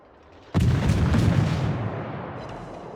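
A warship's naval guns fire in World of Warships, one sudden heavy boom after a quiet start, then a long rumbling roar that slowly fades, loud and close with no talking.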